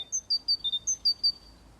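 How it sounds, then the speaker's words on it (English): A small songbird in a quiet Paris city setting sings a quick series of about eight clear, high, pure whistled notes, close and distinct against near silence. "city dwellers who couldn't believe their ears heard the birds sing"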